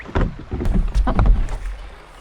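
A kayak is hauled over a fallen tree on a river, giving close scraping and knocking thuds of the hull in an irregular burst, with wind noise in the background.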